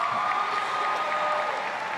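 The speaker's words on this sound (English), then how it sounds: "clap for yourselves." A graduating high school class of 2019 applauding at a ceremony: a dense, continuous wash of many hands clapping from a large crowd, steady and fairly loud for the whole moment.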